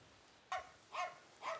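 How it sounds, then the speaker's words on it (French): Abandoned dogs in a war-emptied ghost town give three short barks, evenly spaced and heard from a moderate distance over a quiet outdoor background. "les rares habitants qui sont restés vivent au milieu des chiens abandonnés"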